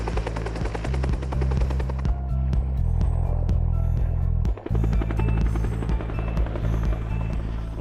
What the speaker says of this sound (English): that's a Huey helicopter